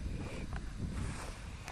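Strong wind gusts roaring steadily around a Swedish torch fire burning outdoors, a continuous broadband rush with no voices.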